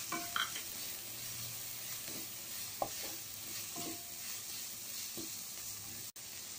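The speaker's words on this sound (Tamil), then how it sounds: "இப்போ இதை வந்து ஒரு டூ டு த்ரீ மினிட்ஸ் வதக்கிக்கோங்க" Chopped vegetables for a bread sandwich are sautéed in a pan, with a quiet continuous sizzle and occasional light scrapes and taps as they are stirred, and no voices.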